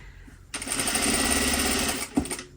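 An overlocker sewing machine runs steadily for about a second and a half, stitching along a fabric seam with a dense, fast mechanical whir, then stops with a small clunk.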